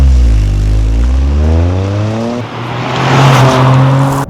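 A Toyota GR Corolla accelerating hard with the center exhaust valve open, its engine note rising loudly through the gears, with a brief dip at a shift before pulling again, close and unbroken.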